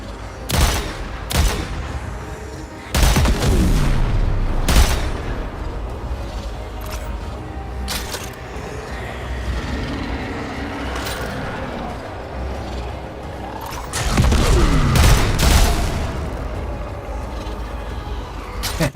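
Gunfire in Warframe, a sci-fi shooter game, arriving as loud repeated bursts and single cracks with rumbling tails across a busy game soundscape. One loud sustained stretch comes early and another near the end.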